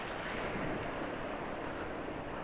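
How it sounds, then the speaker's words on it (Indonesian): Steady rain falling outdoors at a racetrack, a dense, even hiss with no breaks, close to the microphone for its full few seconds, no voices. "Maaf hujan ya"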